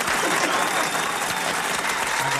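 Dense applause fills a live radio show, a steady wash of many hands clapping at constant loudness with no pauses.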